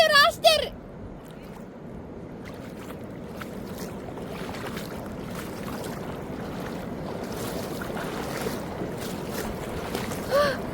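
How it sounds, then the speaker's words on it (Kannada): Fast-moving sea water and waves at a Goa beach roar in a broad, steady wash that builds slightly over time, with brief bursts of talk at the start and end. "ಈ ನೀರು ಇಷ್ಟು ಸ್ಪೀಡಾಗಿ ಹೋಗ್ತಾ ಇದೆ ನೋಡಿ"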